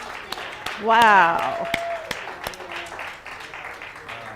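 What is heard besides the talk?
audience applause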